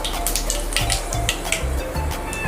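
Okra sizzles in hot oil with cumin and asafoetida for a masala okra dish, a steady frying crackle close by with a few soft scraping stirs and light pan knocks, and no one talking.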